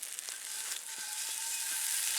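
Snow sizzles and boils in a hot cast iron pan after cooking, a steady bright hiss with faint crackles, close and continuous.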